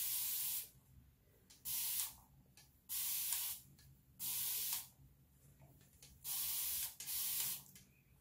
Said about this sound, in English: So I'm just gonna spray around like the perimeter of my hair.